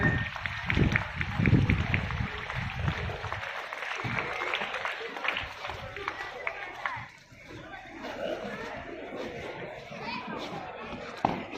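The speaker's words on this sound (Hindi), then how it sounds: "एक बार फिर जोरदार तालियों से इस्तकबाल करें।" A crowd claps at a school flag hoisting and parade in Darbhanga, with a burst of applause under a voice over a loudspeaker, children's chatter and bustle, the noise thinning out later.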